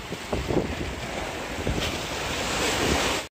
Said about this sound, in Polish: Te fale troszkę przerażają, jak się kurde obijają o te chodniki.